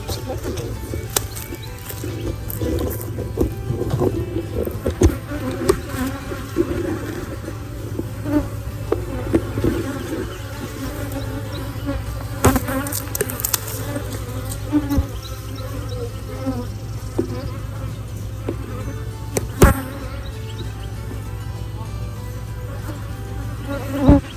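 Honeybees buzz steadily around a large backyard hive during an inspection, a dense continuous drone close by with scattered louder passes of individual bees and no talk.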